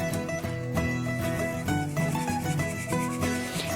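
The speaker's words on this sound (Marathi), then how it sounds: "मी आता या चाळणीने हिला गाळून घेतो" Coarsely ground mung dal is sieved through a metal strainer for halwa, giving a steady gritty rubbing and scraping that runs continuously over background music.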